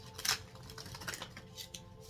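A deck of tarot cards being shuffled, with short papery riffles and flutters in a few quick bursts, close and fairly quiet with no talk.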